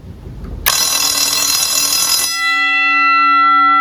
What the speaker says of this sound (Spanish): Sonó el timbre por el tiempo que le tenemos regulado aquí